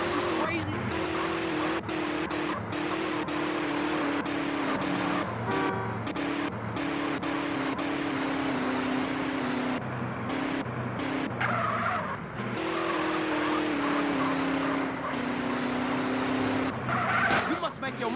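A car in the video game GTA San Andreas drives and skids, its engine droning loudly throughout with repeated long tire squeals and skidding screeches over about eighteen seconds, with occasional talk mixed in.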